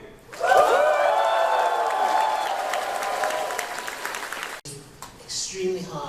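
A large indoor crowd at a convention closing ceremony bursts into loud cheering and sustained applause with whoops, which fades after a few seconds into scattered voices.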